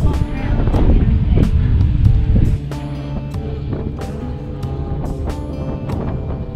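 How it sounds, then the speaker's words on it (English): Strong 15 to 20 mph wind at a lakeside park buffets the microphone with a heavy low roar that eases partway through, leaving steadier rumbling gusts. "pretty strong 15-20 mile an hour wind"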